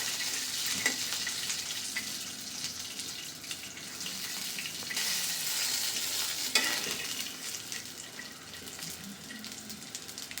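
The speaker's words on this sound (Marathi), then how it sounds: "खरपूस चांगले भाजून घ्या" Peanuts dry-roasting and being stirred in a pan until reddish and crisp, for a fasting-day chilli thecha; a steady close scrape and soft sizzle runs throughout with no talk.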